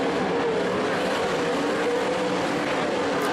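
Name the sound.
race cars racing at Skagit Speedway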